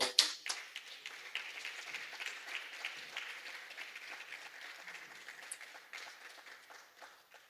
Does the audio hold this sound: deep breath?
no